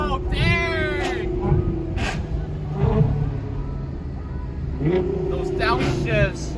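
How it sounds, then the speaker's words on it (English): A Ferrari F12 TDF driven through traffic blips its engine on downshifts, producing several sharp rising and falling revs close by, with voices talking over the engine. "Those downshifts."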